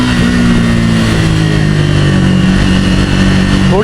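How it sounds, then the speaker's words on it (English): A Triumph Thruxton 400 motorcycle rides in low gears at low speed through traffic. Its engine note is loud and close, holding a steady throbbing pitch that climbs with a rev near the end, and no one speaks over it. "I'm trying to use the bike now in low end, in low gears, on low speeds in the traffic"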